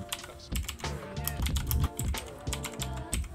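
Keys pressed on a computer keyboard during After Effects work, including a Ctrl+Y shortcut, heard as a close run of crisp clicks and taps in an uneven rhythm with no talking.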